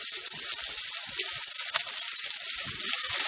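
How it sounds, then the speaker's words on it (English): Soy sauce hits a hot pan of chilli chicken, a soft continuous hissing sizzle with faint crackles and one brief sharper spit, steady and fairly quiet throughout. "So now I'm going to add another tablespoon of soy sauce."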